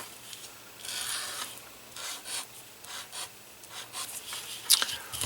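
A chalk marker gliding over black cardstock in short bursts of light scratchy strokes, close and fairly quiet, separated by brief pauses.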